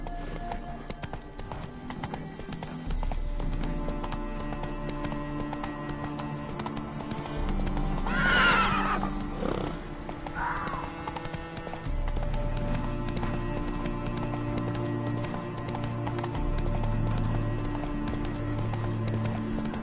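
Roach the horse galloping in The Witcher 3, with steady rhythmic clip-clop hoofbeats under game music and a brief whinny midway, close and continuous.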